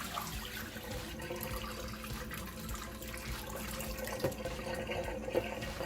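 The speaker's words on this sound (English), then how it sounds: "First, I'm going to pour off all of the water that's here." Water is poured off from a container used to rinse a hair bundle, a continuous gentle trickling and splashing that runs steadily throughout with a few brighter drips.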